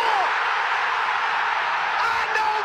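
A huge Old Trafford stadium crowd roars loudly and continuously after a Manchester United goal, a dense wall of cheering that barely lets up.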